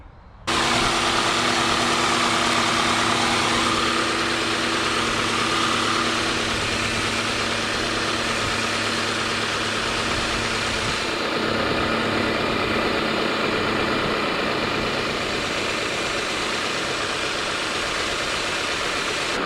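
A car engine idles with a steady, rumbling hum, joined by a broad hissing noise while the air conditioner is recharged; no voices, just constant mechanical drone throughout.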